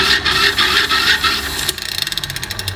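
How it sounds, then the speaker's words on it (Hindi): Hand-cranked megger insulation tester being turned while testing a transformer winding, giving a rough whirring rasp that settles into a quick, even series of clicking pulses near the end. "अब मैगर को 160 आरपीएम की दर से घुमाते हैं।"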